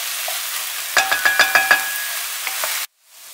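Potato, eggplant and other vegetables sizzle steadily in a hot pan, with a quick run of five or six sharp utensil taps against the pan before the sound cuts off.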